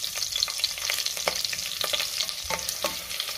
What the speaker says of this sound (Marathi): त्यातच आपल्याला हिरवी मिरची घालायची आहे आणि हे थोडंसं आपण परतून घेऊया।